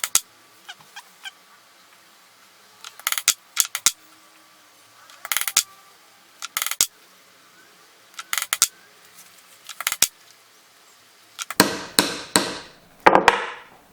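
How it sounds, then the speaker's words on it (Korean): Sharp, separate knocks of an awl punch driven through a leather belt strap, coming in short clustered bursts with quiet gaps between them, and louder, denser strikes toward the end. "송곳 위치를 잡으셨으면 이 송곳이 펀칭의 센터에 오도록 위치를 잡아서 뚫어주도록"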